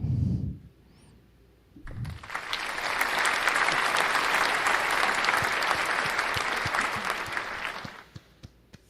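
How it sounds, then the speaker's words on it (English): A burst of steady crowd applause plays during a live sports talk stream, a dense sustained clapping lasting about six seconds, with short sounds before and a few scattered claps trailing off at the end. "Round of applause."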